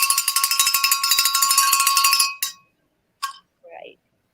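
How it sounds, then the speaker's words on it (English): Grandma Bobby's hand bell is shaken rapidly for about two seconds, a bright, close metallic jangle of quick repeated strikes, then two short isolated rings, with a brief bit of voice at the end. "So here we go with Grandma Bobby's bell."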